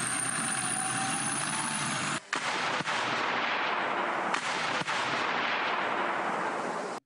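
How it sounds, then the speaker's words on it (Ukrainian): A 2S1 Gvozdika self-propelled howitzer fires 122 mm shells in the field. The clip is a sustained loud roaring blast with a few sharp cracks and abrupt dips, and no voices. "Ми стріляємо навісним пострілом, а не прямим наведенням."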